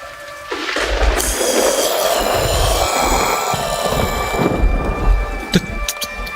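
Heavy rain pours steadily amid rumbling thunder in a dark horror scene, a continuous loud wash with low rolls underneath and a few sharp cracks near the end.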